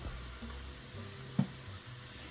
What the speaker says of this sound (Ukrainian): Цибулю нарізали і тепер її обсмажуємо